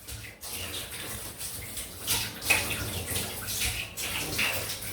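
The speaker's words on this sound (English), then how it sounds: "But it's taken quite a while to rinse that slickness off." Water rinsing off a freshly shaved head, a steady hissing splash with shifting surges like water from a running tap, fairly close and moderately quiet, with no talking.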